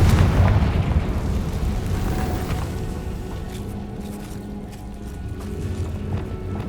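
A Confringo fire-blast spell in Hogwarts Legacy lets out a loud, booming burst at the start, then a rumbling roar that slowly fades under sustained low crackle and debris.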